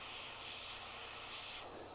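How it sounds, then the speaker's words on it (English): Spray paint hisses from a can over a cut-out stencil in two short, close bursts of about a second each, separated by a quieter pause, with no talking. "I'm just going to spray the side I need."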